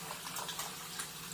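A kitchen tap runs steadily as hands are washed after handling raw meat, a constant close hiss of flowing water with no pauses.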